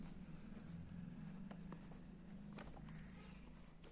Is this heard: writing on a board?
yes